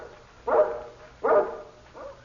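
A large mountain-breed guard dog barks twice in loud, close bursts, then gives a softer third bark, heard indoors with no talk over it.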